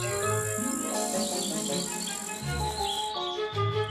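Grasshopper chirping song in a children's audio tale, rendered as a continuous, loud, bright buzzing trill with tonal, musical layers and no speech.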